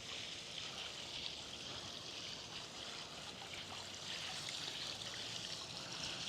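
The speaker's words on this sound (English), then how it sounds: "Got that jacuzzi with the little waterfall falling down." A jacuzzi with a small waterfall trickles steadily at a luxury home, a soft continuous splash and hiss of falling water heard from a short distance.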